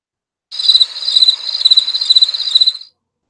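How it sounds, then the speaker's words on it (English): Cricket chirping as a sound effect, a bright, rapid pulsing trill in short repeated bursts, clean and isolated against silence. "it's crickets"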